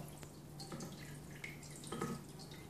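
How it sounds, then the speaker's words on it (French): Water is poured into a large baking dish holding pots of vanilla egg custard, giving soft intermittent splashing and trickling, faint and close. "la petite astuce, c'est de verser l'eau dans le plat"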